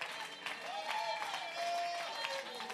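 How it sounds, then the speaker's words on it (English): A church congregation claps along during a Sunday morning service, a steady patter of hands mixed with singing and music and a voice in the room. "Let's clap our hands to the Lord."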